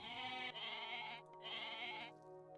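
A goat in Age of Mythology Retold gives two clear, nasal, wavering bleats in a row, separated by a short gap, fairly faint and heard alone.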